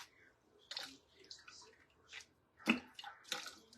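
Makeup brushes dipped and squeezed out in a small bowl of water, quiet wet squishing and trickling in short irregular bursts, close and soft.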